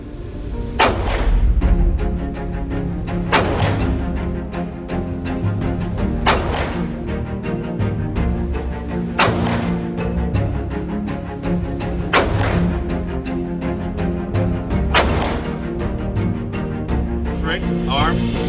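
Handgun shots at a shooting range during concealed carry training, about six sharp loud cracks spaced a few seconds apart with echoing tails, voices talking between them.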